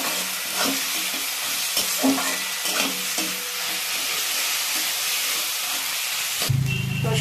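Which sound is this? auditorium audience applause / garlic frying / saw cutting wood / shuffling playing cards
garlic frying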